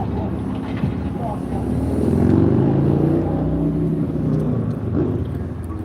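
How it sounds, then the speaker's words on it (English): Loud motorcycle engines rumble and swell as they pass nearby at night, the roar peaking midway and then trailing off, with a voice speaking over it. "A lot of loud motorcycles out tonight."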